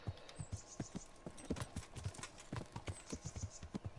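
Horse hooves clip-clop steadily on the ground in the medieval video game Kingdom Come: Deliverance, a brisk, close, rhythmic series of sharp knocks that continues throughout without talking.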